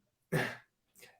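A single human sneeze, one short sharp burst followed by a fainter trailing breath, close and fairly quiet.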